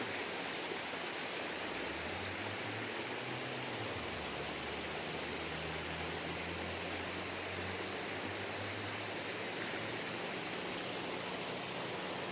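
Continuous rushing of flowing water, a steady broadband wash like a nearby creek, with a faint low hum drifting underneath.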